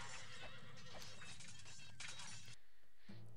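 Horses ridden by samurai whinny and clatter in the old strategy game Tzar. The neighing is bright and layered over hoof and impact noise, then cuts off abruptly near the end.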